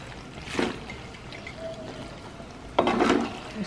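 Boiled macaroni is tipped into a pan with cubed onion and stirred in, giving two short wet pouring, sloshing bursts against a steady background hiss.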